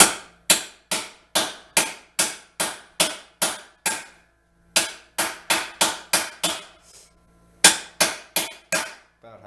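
Sharp metallic hammer taps knocking a cafe racer seat hoop into a motorcycle frame, a snug fit, struck in steady rapid bursts of about a dozen blows each, close and loud with brief pauses between runs.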